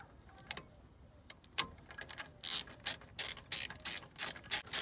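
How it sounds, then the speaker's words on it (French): Small hand ratchet tightening the wheel bolts on a BMW E36, slow scattered clicks at first, then a quicker run of loud, evenly spaced ratcheting bursts close by. "ici, je continue à resserrer et à remettre la cale. Petit cliquet"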